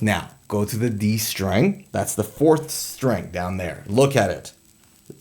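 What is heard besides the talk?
No everyday noise stands out behind the speech.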